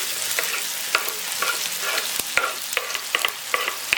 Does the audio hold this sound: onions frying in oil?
yes